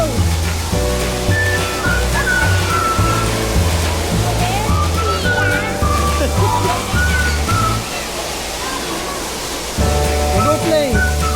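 Water gushes and sloshes loudly and continuously from a shower feature at the Great Wolf Lodge indoor water park in Grand Mound, Washington, mixed with echoing hall noise, tonal background sounds and voices nearby.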